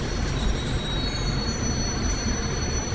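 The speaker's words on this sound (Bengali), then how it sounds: "আমি এখন থামিয়ে দিলাম ট্রেনটাকে থামিয়ে দিলাম" A train in the mobile video game Indian Zombie Bikes 3D braking to a halt, with a loud continuous rolling rumble and thin high wheel squeals running across it, with no talk.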